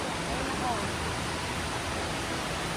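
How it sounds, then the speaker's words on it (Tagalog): Waterfall at an outdoor scenic spot in the USA, heard as a steady, even rushing roar of falling water with no breaks. "Yung waterfalls nila dito."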